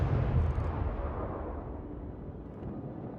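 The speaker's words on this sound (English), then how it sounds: "Let's open fire this guy." Warship guns firing in World of Warships, a deep rumbling blast at the start that decays into a fading low-end roll over a few seconds.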